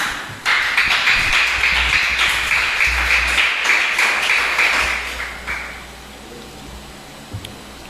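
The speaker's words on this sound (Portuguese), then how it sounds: "Pode aplaudir." A congregation at a church service claps together in sustained, dense applause for about five seconds before it fades, with a few scattered claps at the end.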